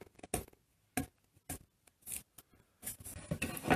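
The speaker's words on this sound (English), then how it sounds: "first you take the black tape off" Black tape is peeled off a linocut print in a series of short, crisp tearing and crackling bursts, close and quiet, with brief gaps between pulls.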